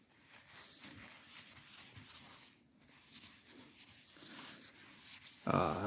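1200-grit paper rubbed by hand over the paint of a Ford Escort MK1 to remove scratches: soft, rhythmic back-and-forth sanding strokes, close and quiet, ending with a sudden louder scuff.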